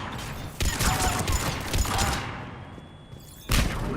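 Loud, dense gunfire from a firefight in Mass Effect 3: rapid overlapping bursts and bangs through the first two seconds, a short lull with a thin electronic tone, then another sharp blast near the end.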